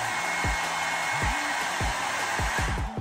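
A Revlon brush dryer runs on its low setting, giving a steady, close whooshing hum of air that lasts throughout, with sharp clicks and knocks of handling heard over it.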